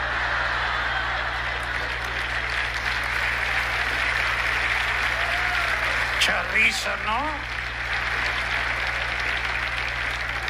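Audience applause at a ventriloquist comedy show fills the whole stretch as a steady, dense roar, with a voice speaking over it and a few brief squeaky vocal sounds in the middle.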